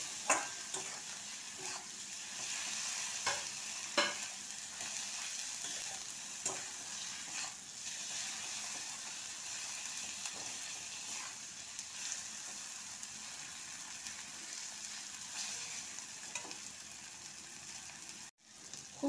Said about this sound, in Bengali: মশলাগুলো দিয়ে তেলে ভেজে নিচ্ছি ভালো করে।